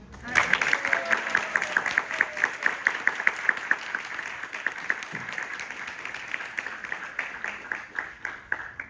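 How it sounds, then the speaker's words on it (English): An audience applauds graduates at a graduation ceremony, with steady, sustained clapping that stays fairly even and continuous from start to finish. "Let's have one big round of applause for all the graduates"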